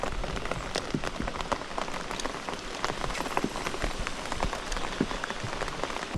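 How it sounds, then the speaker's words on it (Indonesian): Heavy rain drums steadily on a surface during a stormy international casting tournament outing, a dense continuous patter of drops throughout with no voices. "Sepanjang perjalanan sama hujan deras."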